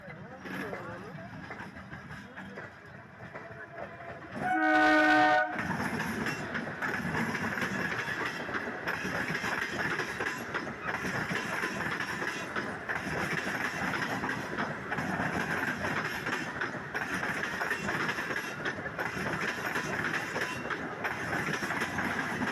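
A short, loud horn blast, then a local train rumbles past with steady clickety-clack of wheels on rails that goes on for a long stretch. Voices murmur faintly.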